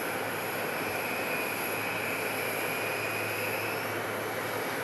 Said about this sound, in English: Next arrival, American 1136 from Miami on an A321neo.